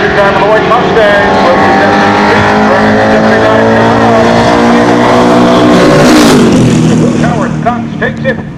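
Drag race launch of a 1979 Chevrolet Camaro and a white Mustang: a loud, sustained engine roar that revs and accelerates away, with a brief tire chirp toward the end.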